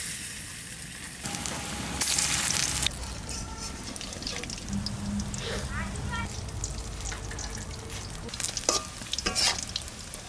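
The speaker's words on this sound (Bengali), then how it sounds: "সেই বাকিটাও আমি ওইভাবে ভেজে দেবো।" Palm fruit kernel fritters (tal shash bora) sizzle in hot oil as they are stirred and turned, a bubbling crackle with scraping and clinks, occasional sharper spatters and a hushed voice in the background.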